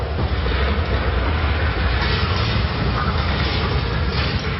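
Steady rumbling ride aboard a tram at Disneyland Paris, a continuous loud broadband rolling noise with faint rattling and no clear pauses throughout.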